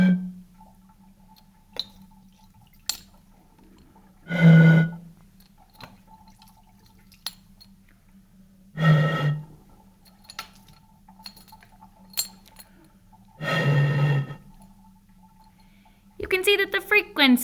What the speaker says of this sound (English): the frequency of the sound that comes out of this bottle depends on one thing